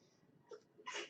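A single close sneeze, a short intake sound followed by a loud, bright burst near the end, with faint murmuring in the background.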